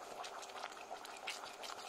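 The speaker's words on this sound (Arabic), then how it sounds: "نحطوا الماء مع السكر يغلي بالكدا" Water and sugar boiling in a pan for homemade caramel, a dense, close bubbling and popping that continues throughout with no voices.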